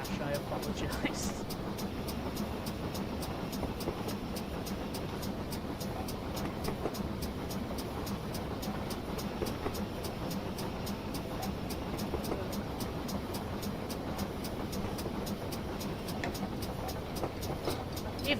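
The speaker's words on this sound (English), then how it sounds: "Even the subtle chuff's quite nice to listen to" A King class steam locomotive in Train Simulator on the West Somerset Railway chuffs steadily, its rapid, even beat running under a continuous rolling rumble of rail noise for the whole stretch.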